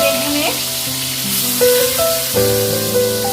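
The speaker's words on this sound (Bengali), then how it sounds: "তেল গরম হয়ে গেছে, এরপর আমি বেগুনগুলো আস্তে আস্তে ভেজে নিচ্ছি।" Eggplant slices fry in hot oil for a begun paturi, a steady close sizzle with a few soft clinks of a utensil and swells as pieces shift, with no talking.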